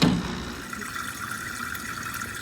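A turtle tank cleaner pumping water out into a sink, a steady loud gush and splash of draining water running throughout.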